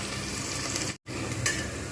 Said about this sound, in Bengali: পেঁয়াজটা আমি একদম পুরো লালচে করে ভাজবো